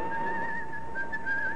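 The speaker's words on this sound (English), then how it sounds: "A calm, gay Jim Hudson made his way, whistling as usual, through the weekend-bound crowds of Waterloo Station" A man whistles a wavering tune through the crowds of Waterloo Station in a radio drama, clear and steady, with faint background noise and no talking.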